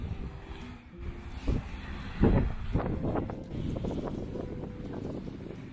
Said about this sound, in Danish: Og så kommer vi ud i vinden.